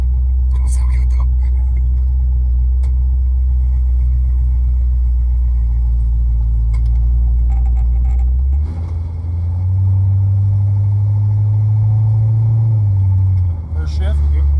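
A Ford car with a C4 automatic transmission drives with a loud, steady low engine rumble, which drops and resettles partway through as it shifts, with faint voices murmuring over it.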